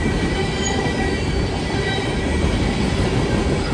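A freight train rolls past near Fort Wayne, Indiana, picking up speed with a loud, continuous rumble of wheels on rail and a steady metallic squeal.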